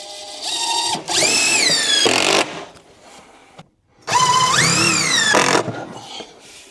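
Power drill driving washer-head screws into a wall stud for cabinet installation, two loud close bursts with the motor whining and rising in pitch, separated by a brief quiet gap.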